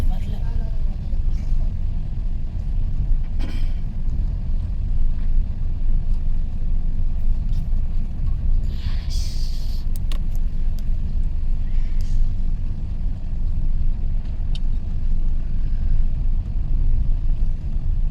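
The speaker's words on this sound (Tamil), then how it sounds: "கிளச்சில் மட்டும்தான் வண்டி போயிட்டுருக்கு ரெண்டாவது இயரில் போயிட்டுருக்குற" A car creeps along in second gear with the clutch partly engaged, giving a continuous low engine rumble close by, with occasional faint clicks and hisses. Voices talk over it.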